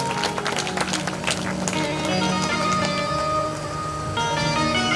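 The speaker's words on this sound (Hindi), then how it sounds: "एक बार कौशलेश के लिए जोरदार तालियों से स्वागत करें" Loud, sustained applause from an audience at a religious storytelling gathering fills the space, dense clapping with musical tones ringing underneath throughout.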